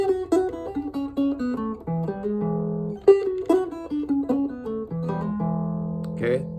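Electric blues guitar in E played in first position with open strings, a run of plucked single notes and short phrases ringing out clearly, alone and moderately loud.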